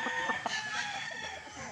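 A gamefowl broodcock rooster crows in one drawn-out call at moderate distance on a game farm, with steady outdoor background noise underneath.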